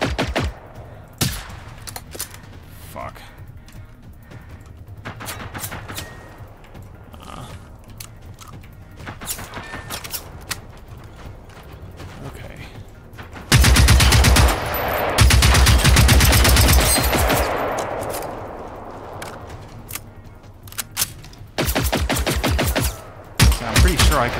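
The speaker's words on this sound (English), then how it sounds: "Something is shooting at me from the right now" In the video game Generation Zero, gunfire rattles at the player through the whole stretch: scattered sharp single shots early, then long, loud sustained bursts of automatic fire in the middle and near the end.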